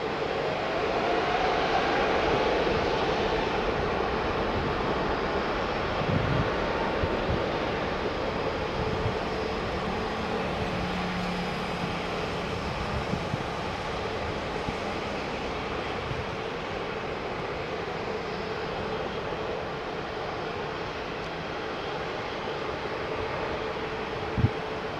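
A Middle East Airlines A320neo-family airliner passes at Heathrow Airport, a steady broadband jet roar that holds evenly throughout at moderate distance, with no voices over it.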